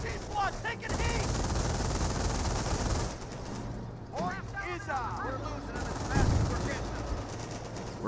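Rapid machine gun bursts and gunfire ring out through a Company of Heroes battle, loud and continuous alongside in-game unit voice callouts and other combat noise.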